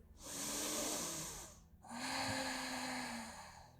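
Two long, deep breaths drawn close to the mic during a yoga session, each a soft airy rush swelling and fading, separated by a brief pause, with no talking.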